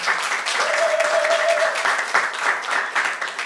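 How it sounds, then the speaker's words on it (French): A crowd applauds a fashion designer and stylist, with dense clapping throughout and cheering voices mixed in, including a brief sustained tone. "s'il vous plaît, applaudissements pour elle."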